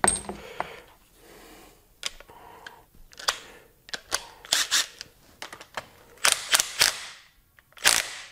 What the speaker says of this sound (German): Ich habe das jetzt da mit dem Schlagschrauber einmal auslösen lassen.